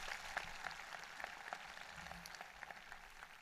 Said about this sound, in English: Why don't we all give a collective round of applause to Yash, to Jake, and to Pranav for sharing their thoughts with you